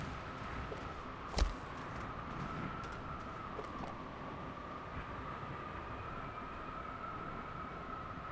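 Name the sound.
train moving along rail line in video game Spacebase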